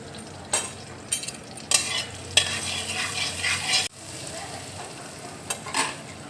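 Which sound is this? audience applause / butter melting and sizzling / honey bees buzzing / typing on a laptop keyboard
butter melting and sizzling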